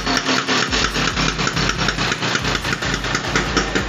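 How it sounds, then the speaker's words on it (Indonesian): An old Vespa scooter engine catches after a single kick of the starter and settles into a steady, loud, close-up idle with a rapid, uneven two-stroke putter, no voices over it. "Sekali engkol jreng guys."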